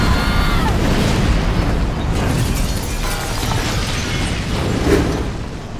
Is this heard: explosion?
yes